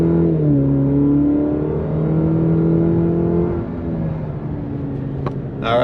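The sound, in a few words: Cadillac CT5 car accelerating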